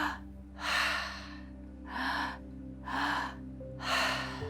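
Breathwork breathing for a sleep meditation: four slow, even breaths at a steady rhythm, each a soft airy rush, close and quiet over a faint steady hum.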